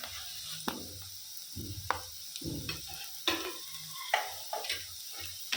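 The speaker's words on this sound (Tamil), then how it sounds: "இஞ்சி பூண்டு விழுது பச்சை வாசம் போகிற வரைக்கும் நல்லா வதக்கிக்கலாம்." A spatula scrapes and stirs ginger garlic paste in a hot pan, with a soft steady sizzle between the uneven knocks and scrapes.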